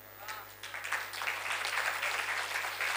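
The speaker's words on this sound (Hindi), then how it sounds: "इन तालियों को आपको बराबर रखना है।" Audience applause at a Hindi poetry recital, a dense, steady wash of clapping that swells in after a brief quieter start and holds at full strength.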